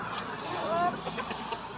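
Mini Cochin hens and their month-old chicks cluck softly nearby, short clucks and peeps mixed with faint background noise while someone talks.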